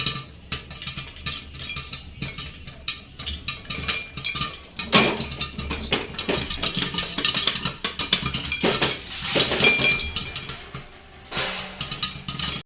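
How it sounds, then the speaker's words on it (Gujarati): Popcorn pops inside a sealed pressure cooker, a long run of irregular metallic rattles and knocks that come in dense bursts and then thin out, with no voices. "કુકર કરી દીધું છે પેક અને હવે ફૂટી રહી છે ધાણી. પછી એનો અવાજ આવી રહ્યો છે."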